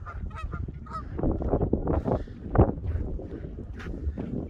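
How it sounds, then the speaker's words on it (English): Geese honk repeatedly in a loose chorus, moderately near, on a frozen lake in Canada, with wind buffeting the microphone and no talking. "Look at those geese over there."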